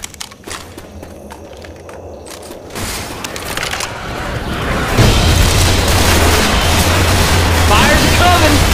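Bomb blast in the zombie game Left 4 Dead 2, in an industrial warehouse setting: a rising boom swells after a few seconds into a loud, sustained rumble with scattered pops and footsteps, and voices underneath.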